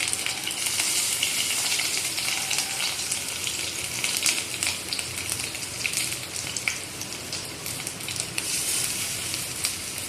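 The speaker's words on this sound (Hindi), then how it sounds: "एमती बरा कर भाजीदेवा।" Fritters of drumstick leaves and eggplant fry in hot oil, a steady close sizzle and crackle with brief louder spatters, continuing unbroken throughout.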